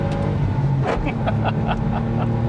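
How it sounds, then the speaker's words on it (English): A Smart car with a single-clutch automated gearbox pulls in second gear out of a corner, its engine droning steadily and close from inside the cabin, with faint voices in the background. "I'm going to do a little second gear pull coming out of the corner"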